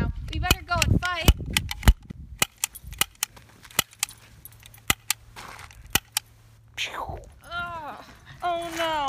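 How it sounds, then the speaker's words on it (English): Sharp gunshots crack out one by one in a Pickett's charge battle scene at Gettysburg, loud and irregularly spaced, with a voices talking and calling before and after the shots. "I heard that Pickett's charge is happening right now. We better go and fight"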